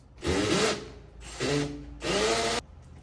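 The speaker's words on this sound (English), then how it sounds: "I'm gonna drill a hole about a little more than 1/4 inch south of that" An electric drill bores into a wall in three bursts, each a second or less, close and loud with short pauses between, while a hole is made to mount a Hunter HPC smart irrigation controller.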